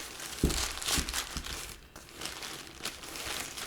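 The little foil lid on an ice-cold can of Effers crinkles and tears in a few close, dry crackles, sharp at first and then softer, with no talk.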